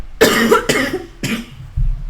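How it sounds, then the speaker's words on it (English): Three harsh coughs in quick succession from one nearby person, followed by a brief low rumble. "not a spicy cough, just a normal cough"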